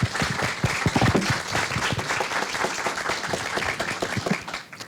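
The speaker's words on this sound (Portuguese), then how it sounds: "Uma salva de palmas ao curso." An audience at an anniversary event for a veterinary course gives a round of applause, many hands clapping in a steady, fairly soft wash with no speech on top.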